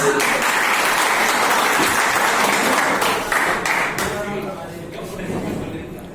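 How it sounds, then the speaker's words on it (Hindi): A crowd of diploma students gives a loud burst of applause for a teacher at a university Teachers Day event, dense clapping that holds steady and then tapers slightly, with voices mixed in. "जोरदार ताली"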